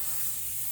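A voice imitates the spray of sanitizer with a steady, loud hiss under a second long, broadband and continuous with no breaks or other sounds.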